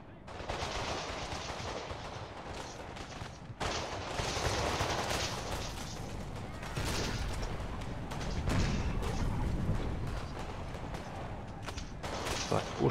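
Cannon and musket volleys in a Napoleon: Total War battle, a dense, continuous crackle of massed gunfire with heavy booms rolling underneath throughout.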